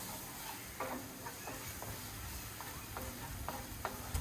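Sizzling moussaka sauce with tomato paste is stirred in a pan, a low steady frying hiss broken by soft, regular scraping knocks of the spoon. Nobody speaks.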